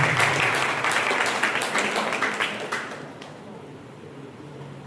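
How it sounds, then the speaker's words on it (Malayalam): Audience at Gurudev College, Kannur, applauding to welcome a university volleyball team: dense, loud clapping for about three seconds that thins and fades into quiet. "ടീമംഗങ്ങളെ വളരെ ഹാർദവമായി നിറഞ്ഞ കയ്യടികളോടെ ഗുരുദേവ് കോളേജ് വെൽക്കം ചെയ്യുന്നു"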